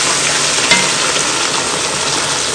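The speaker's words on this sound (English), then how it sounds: "When you see the smoke, you add your sauce in it." Penne arrabbiata sauce hits a smoking hot pan and sizzles loudly and steadily. The hiss stays close and continuous throughout, with no voices over it.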